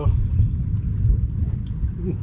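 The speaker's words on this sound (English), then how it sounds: "that's some serious thunder out there" Thunder rolls over a lake during a storm, a sustained deep rumble that swells and fades across the whole stretch, heard from inside a houseboat.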